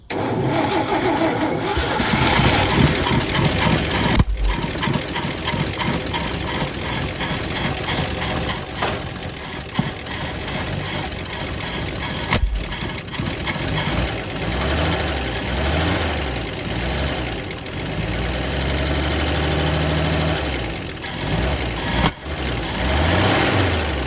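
A 1958 Chevy Delray V8 cranks over and catches, then runs rough and loud for over twenty seconds, with surges and brief stumbles, recorded up close.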